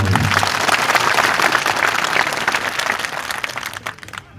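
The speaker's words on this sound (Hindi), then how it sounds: "एक बार तालियां बजाओ।" An audience at a social-reform speech by a former Union minister bursts into loud, dense clapping that holds steady and then gradually thins and fades toward the end.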